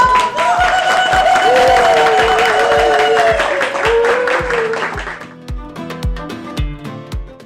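Loud clapping from a crowd at an outdoor swimming event in Kaş, Turkey fills the first five seconds, mixed with cheering voices and music, then thins out into scattered claps over a steady beat.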